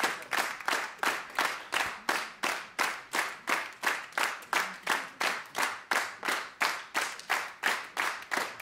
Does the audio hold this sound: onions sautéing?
no